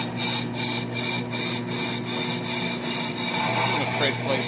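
A brake lathe spins while resurfacing a brake rotor, giving a steady mechanical hum with a rhythmic scraping pulse about twice a second, and a voice is faintly heard partway through.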